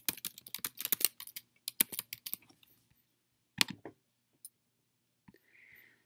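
Keys on a computer keyboard being typed in quick bursts of close, crisp clicks, pausing midway and then a few isolated taps, with no talking.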